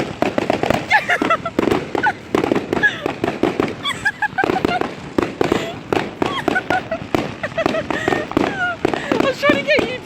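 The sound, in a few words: fireworks going off at new year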